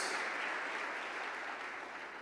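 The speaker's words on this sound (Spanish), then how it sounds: "Démosle fuertes ofrenda de palmas a nuestro Dios, hermanos y hermanas" Church congregation clapping together in a steady wash of applause, fairly quiet and continuous throughout, with no talk over it.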